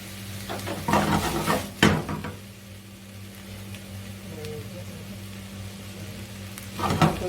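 Llama meat and vegetables sautéing in a pan, with stirring scrapes and utensil knocks in bursts at the start and end over a low, continuous sizzle and a background hum.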